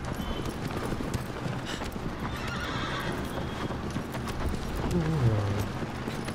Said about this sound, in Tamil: குதிரை கத்துது கொடுமைப்படுத்துகிற போல இருக்காது பாவம்